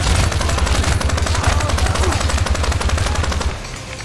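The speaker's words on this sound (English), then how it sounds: "Gun sounds beefy" Video game gunfire comes in rapid, continuous bursts, a loud, punchy automatic stream that runs for several seconds and then drops away abruptly near the end.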